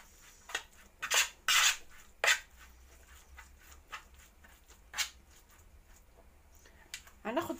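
A spoon stirs oil and chili spice in a dish, giving a few sharp metallic clinks and scrapes spread through a quiet stretch.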